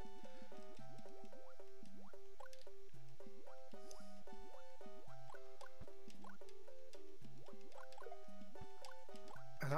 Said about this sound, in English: Oh, Mario Water music too, by the way. Always on point.